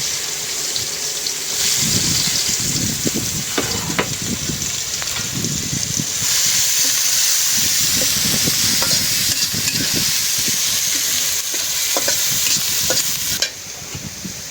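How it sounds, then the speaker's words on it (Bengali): Chopped onions fry in the hot oil left over from frying fish, giving a loud, steady sizzle with repeated scraping stir strokes throughout, no talking. "এখন দিয়ে দিলাম পেঁয়াজ। মাছ ভাজা তেলে দিয়ে দিলাম।"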